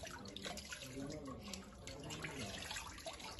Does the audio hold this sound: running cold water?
yes